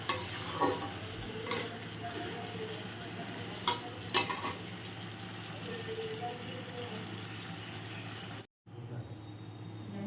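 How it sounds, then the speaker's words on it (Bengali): Potatoes, onion and ivy gourd frying together in a pan, faint sizzling with stirring scrapes and light utensil clinks, close but quiet, cutting off abruptly near the end. "আলু পেঁয়াজ আর কুদরি একসাথে ভেজে নেব"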